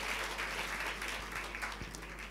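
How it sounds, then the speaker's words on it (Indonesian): Applause for worship leaders and musicians at a church service, a dense steady clatter of many hands clapping in a large hall, even and sustained throughout with no talk over it. "Boleh tepuk tangannya di-extend buat para worship leaders dan musicians."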